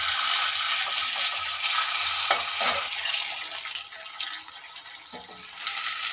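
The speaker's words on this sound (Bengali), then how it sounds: "শুকনো লঙ্কা ফোড়ন দিয়ে দিয়েছি আর জিরা ফোড়ন দিয়ে" Dried red chillies and cumin seeds tempering in hot oil in a pan, a steady bright sizzle and crackle that runs on without a break, with a couple of soft clinks partway through.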